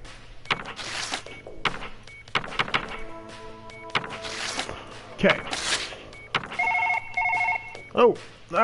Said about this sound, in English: Oh, I got a phone call.